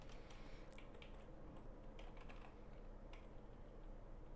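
Keys clatter on a computer keyboard in a quiet room during a Python lesson, a soft, irregular run of taps and short bursts lasting several seconds with no talking.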